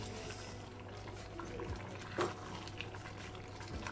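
Rice for plain biryani (kushka) bubbles softly in simmering water in a pot, a faint steady boil with occasional small pops.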